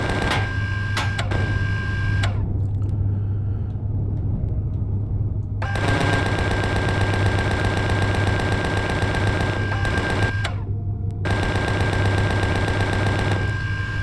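A spaceport in a space video game pours out sustained, loud, continuous gunfire, a dense mechanical rattle with brief drops in intensity.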